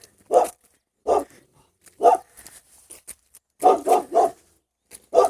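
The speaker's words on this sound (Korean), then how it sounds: "개도 짖습니다. 개도 짖고 있습니다." A dog barks outdoors in a rural village in the hills of Mojong-myeon, Sangju, after rain, giving single and grouped barks with pauses between them, fairly close and clear against a quiet background.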